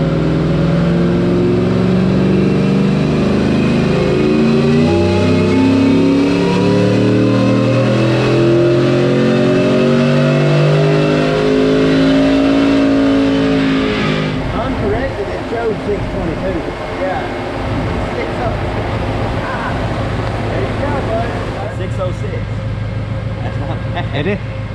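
A Whipple-supercharged 2017 Ford F150 engine revs on a dyno, climbing loudly and continuously through the gears with a rising whine before winding down, while people talk in the background.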